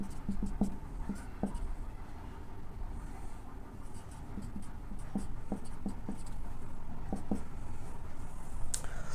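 Marker or chalk writing mathematical terms on a board, with soft scratchy strokes in short bursts and pauses over a low room hum, fairly quiet throughout.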